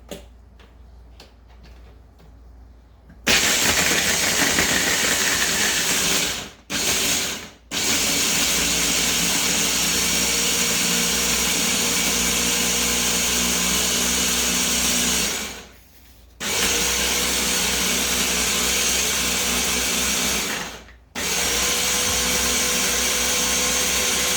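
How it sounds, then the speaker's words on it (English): A Hamilton Beach food processor blends a cashew salad dressing, a loud, steady motor whir that starts abruptly after a quiet opening, briefly cuts out in short pauses several times, then runs on alone. "Hamilton Beach food processor, perfect for salad dressings."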